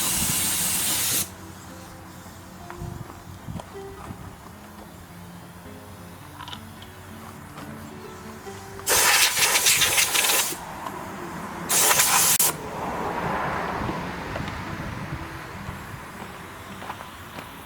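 An air nozzle blasts compressed air while a fireplace is cleaned with power tools: three loud, sharp hissing bursts, one at the start and two close together later, with a quiet room between them.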